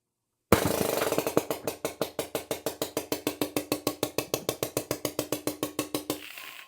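A BP50 fires steel ball bearings with a stiffer 1.5 mm bolt spring fitted, a fast even string of about thirty sharp close pops after one louder first shot, then stopping.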